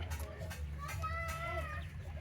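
A Black Australorp hen of an IMC Money Cross breed clucks in a few short, moderately close calls over quiet farmyard background.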